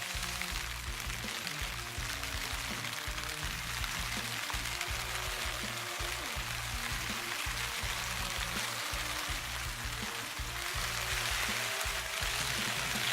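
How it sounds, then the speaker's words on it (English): Light rain falls steadily on a tent while wild camping in the far eastern fells of the Lake District, a soft continuous patter with a low constant rumble underneath and no talking. "I don't know if you can hear, but it's light rain at the minute out there"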